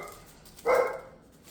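A single short bark from a dog reacting to someone walking by with another dog, heard indoors at moderate distance against a quiet kitchen background.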